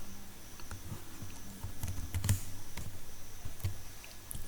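Someone types a password on a computer keyboard, producing a quiet, irregular run of soft key clicks with short pauses, close and alone.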